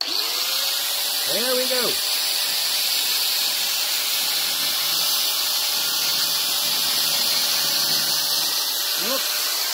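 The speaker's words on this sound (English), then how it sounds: "We have a bit of wood lined up where our line need to be. And a 1mm disc in the grinder." An angle grinder fitted with a 1mm cutting disc slices through a car body panel along a line guided by wood, giving a loud, continuous high hiss and whine throughout, with someone briefly speaking over it.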